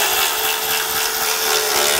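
A power tool with a socket driving T27 fasteners back in while reinstalling a lower brace under a vehicle, heard as a loud continuous whirring drone, close and alone for about two seconds.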